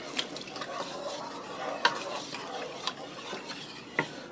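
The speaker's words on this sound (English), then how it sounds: "I'm going to stir it, break up that flour roux" Flour roux being stirred into beef broth brought to a gentle boil for gravy, with soft swishing and bubbling under scattered spoon clinks and scrapes against the pot.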